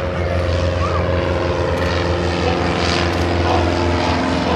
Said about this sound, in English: Chipmunk aircraft, followed by a 4-cylinder inline Gypsy Mark 10 engine.